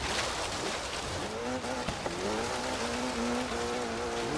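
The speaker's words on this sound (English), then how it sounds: "Revving big time." A KTM X-Bow in Forza Horizon 3 drones with a steady, loud engine note that holds high revs, with its pitch dipping once and climbing again mid-run.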